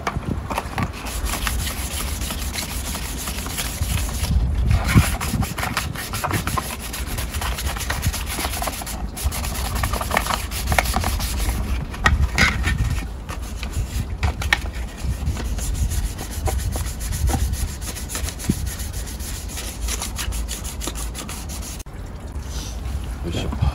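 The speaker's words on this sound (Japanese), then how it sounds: "今磨きがヤスリが終わったんで、ちょっと見ていきましょう。" Hand sanding of a weathered carbon fiber part with sandpaper, done before a urethane clear coat: a steady, close, rasping scrub that runs continuously with slight surges in intensity and no talk.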